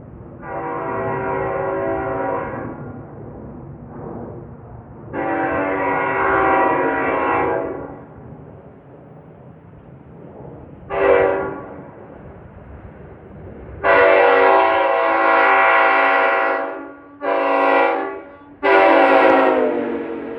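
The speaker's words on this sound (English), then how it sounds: "this train has got a horn worth waiting for" An NJ Transit train, number 1167 bound for Suffern, sounds a loud multi-tone horn in a series of long and short blasts over the rumble of the passing train.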